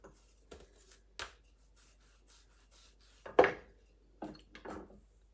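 Pastry dough rolled into a circle for Ukrainian pirizhky, heard as quiet, scattered rubbing and knocking strokes of a rolling pin against a board, with a louder thump midway and a few soft bumps afterward, no talk.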